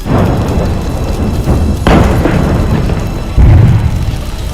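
About ten explosions at a chemical company within minutes: loud, rumbling booms roll through continuous heavy noise, with a couple of sharper thuds standing out, dense and overwhelming.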